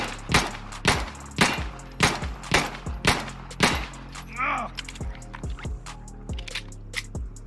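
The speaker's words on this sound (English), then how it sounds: "I'll take a shot at this range here and just" Sidearm pistol shots from Insurgency: Sandstorm, about seven loud, sharp reports fired in a steady rhythm roughly half a second apart, each with a short ringing tail, then quieter clicks and handling sounds afterward.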